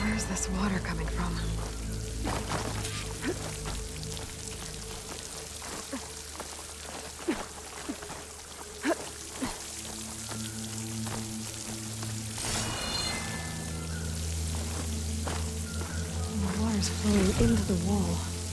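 Water flowing near a waterfall in Horizon Forbidden West, a steady rushing wash that runs the whole time beneath game music and a talking voice.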